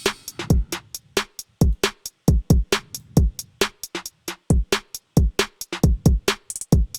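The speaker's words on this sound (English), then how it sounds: "I used the Bang drum kit by Cymatics. I made a beat that sounds like this." Drum beat built from the Cymatics Bang drum kit: punchy kicks and snappy snares in a steady, syncopated pattern, crisp hits separated by short gaps, loud and alone.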